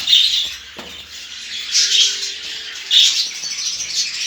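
Pet birds squawking and chirping while they eat soft food, with a few shrill calls rising over a soft rustle and flutter, close by and moderately loud, with no voices.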